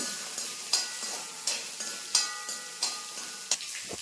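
Green chillies frying in a pan, a steady sizzle broken by about six evenly spaced stirring scrapes, close and fairly quiet with no talking.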